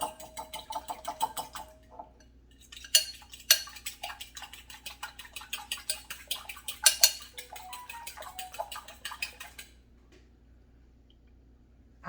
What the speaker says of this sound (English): I'm gonna get a little fork.